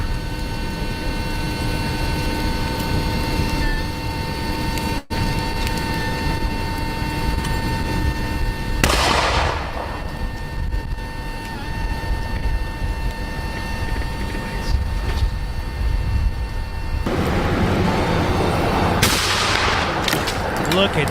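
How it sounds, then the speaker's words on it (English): Fireworks go off inside a burning car, crackling in rapid bursts and sharp pops over a constant roar of flames, with two louder whooshing blasts partway through. "some fireworks inside the car started going off and the airbags exploded"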